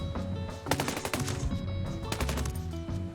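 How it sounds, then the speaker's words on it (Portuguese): Gunfire in the tactical shooter Ghost Recon Breakpoint, with a sharp long-distance rifle shot and a few more loud cracks over steady game ambience. "Vocês viram que até o tiro foi em longa distância e a queda da bala não foi rápida"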